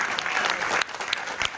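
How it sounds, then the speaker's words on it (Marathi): Loud, dense applause for a film team at a special screening of the Chhatrapati Sambhaji Maharaj film, sustained and then easing slightly, with occasional sharper claps. "तर एकदा जोरदार टाळ्या सगळ्या टीम साठी"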